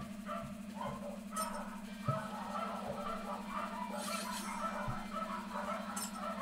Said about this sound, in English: Can you hear dogs? Because I can hear dogs.